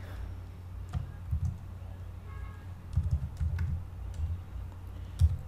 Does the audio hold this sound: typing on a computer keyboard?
yes